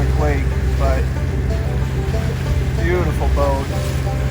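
A boat rides choppy waves on Pickwick Lake, a steady low engine rumble and water wash filling the background while a person talks over it.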